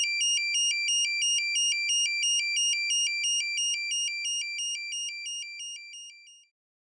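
A fire alarm tied into an X10 system sounds in a steady, evenly pulsed electronic beeping pattern that runs for several seconds and then cuts off abruptly.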